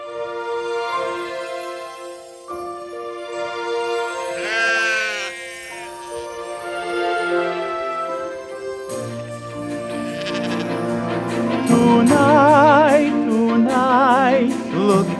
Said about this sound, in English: We really should be watching our sheep.